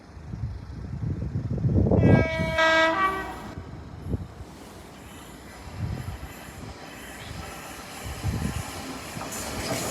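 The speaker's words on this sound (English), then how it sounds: "Train's here." A loud train horn sounds, then a train rumbles past a level crossing with a rhythmic clatter of wheels that slowly fades.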